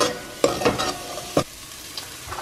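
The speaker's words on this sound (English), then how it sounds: "I'm gonna add a clove of garlic that I minced up, and then I'll let this cook for like 5 minutes." Minced garlic fries in a pot while a utensil stirs it, producing several sharp clacks over a faint, steady sizzle nearby.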